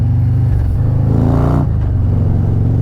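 Harley-Davidson motorcycle with a Stage 4 131ci crate engine, ridden on a highway, its engine rumbling loud and steady, then swelling into a revving acceleration before settling back to a heavy low drone.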